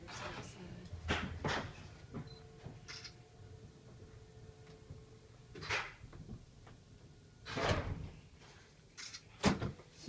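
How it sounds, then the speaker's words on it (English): Antique winding drum elevator door at a San Francisco hotel being closed with several knocks and rattling thumps, medium-close, amid room noise and a steady low hum. "I don't want to slam the door."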